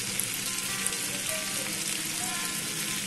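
Sauce sizzles and fries in a pan while village-style dragon pasta cooks, a steady, close crackling hiss that fills the whole moment with no break.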